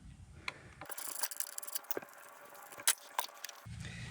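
Ratchet with a 10mm socket loosening a bolt on a 1994-97 Ford 7.3 Powerstroke diesel engine, a few quick metallic clicks and clinks, close and fairly faint, with brief handling noises.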